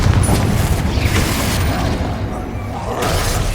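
Incendio fire spell cast in the Hogwarts Legacy video game gives a loud, deep booming whoosh of flame, a continuous rumbling burst with crackling spikes that swells again near the end.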